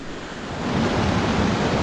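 Rushing water from a waterfall and rapids on Deer Creek at Rocks State Park, Maryland, a steady broadband roar that swells slightly and holds loud and close throughout, with no voices.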